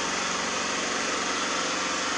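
A small engine runs steadily at a constant high-pitched drone, faint and even with no change in speed, alone in a quiet setting.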